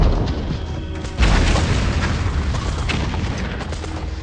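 Gunfire and artillery in an Indonesian war film set during the independence struggle, heard as a steady, loud barrage of booming blasts and rumble, with a heavier burst about a second in and no talking.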